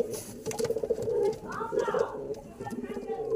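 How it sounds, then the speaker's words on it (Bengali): An old male pigeon coos in low, rolling, repeated pulses close by in a pigeon loft in Bagnan, with other birds and a voice talking over it. "এখানে একটা এনার পুরানো পায়রা, দেখুন এই পুরোনো পায়রা"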